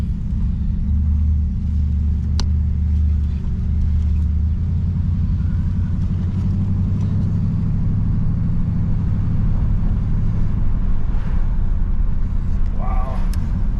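A 1968 Oldsmobile Delmont 88 with a 455 big-block V8, just revived after fuel delivery trouble, rumbles steadily up close as it pulls away for its first drive, a deep low engine drone that holds throughout.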